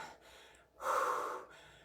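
One heavy, forceful breath is drawn in and pushed out during a live cardio HIIT workout, close and breathy between quieter breaths and no speech.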